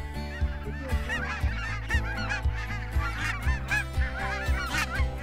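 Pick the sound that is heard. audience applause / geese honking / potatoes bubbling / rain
geese honking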